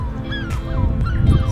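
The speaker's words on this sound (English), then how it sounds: "Here you can hear all the seagulls." Seagulls calling near the white cliffs of Dover: a quick run of several sharp, wavering cries close by, overlapping one another against a low rumble of wind.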